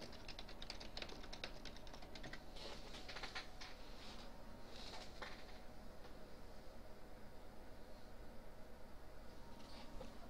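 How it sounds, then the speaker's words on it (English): Keyboard typing heard faintly over an online voice chat during a tabletop RPG session: a quiet, steady run of soft clicks and taps with no one talking. "He's probably typing to Hats so Hats can do the voice."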